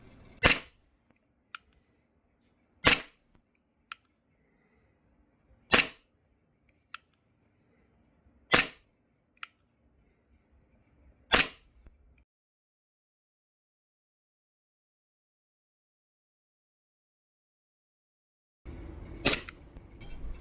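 A VFC EMG SMP airsoft pistol fires at a distant 12-inch steel gong, sharp spaced shots in a steady rhythm, each followed by a fainter metallic click, then a pause of silence before a final shot.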